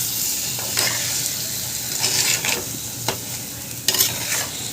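Paneer pieces hit hot oil in a pan, giving a steady close sizzle with bursts of crackle and scraping as they are stirred; no voices.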